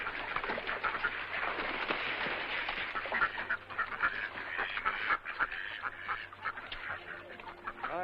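Ducks at a zoo quack continuously while being fed, a dense chorus of overlapping calls close by, with some other bird sounds mixed in and no speech.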